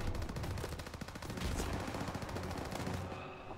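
Rapid bursts of automatic gunfire rattle continuously in a World War II battle in Call of Duty WWII, dense overlapping shots and explosions, fairly quiet overall and fading slightly at the end.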